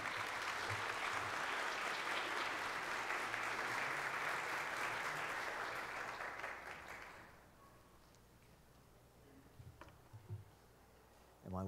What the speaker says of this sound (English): Would you welcome Dr. Becker with a round of applause?